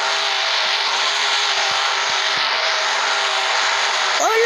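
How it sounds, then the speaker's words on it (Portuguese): Race cars in a racing video game roar past in a steady, loud engine drone that holds throughout, with a brief rising whine near the end. "Olha os carros tudo passando aqui."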